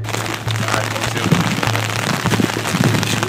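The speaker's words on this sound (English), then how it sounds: "It's raining!" Rain pattering on a surface outdoors, a dense steady hiss of drops with scattered sharper spatters and a low hum underneath, with faint voices mixed in.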